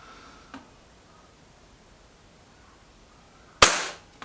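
A Gamo Coyote Tactical air rifle fires a single sharp, loud crack near the end, preceded by quiet background and a faint click earlier; no one speaks.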